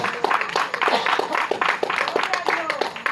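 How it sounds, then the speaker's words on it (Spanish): A church congregation claps for the Lord during a sermon, brisk, irregular hand claps mixed with voices calling out, close and fairly loud. "Dale un aplauso al Señor"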